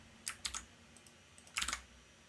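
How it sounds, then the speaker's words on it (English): A few bursts of computer keyboard typing sound close and crisp, short clusters of clicking keystrokes separated by quiet pauses over a faint, low hum. "look at me typing stuff in those description and help fields"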